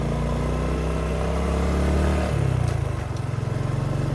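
A Honda XRM Fi motorcycle engine chugs along a rough, slow trail, a steady close mid-pitched drone that shifts tone partway through into a pulsing, throbbing beat.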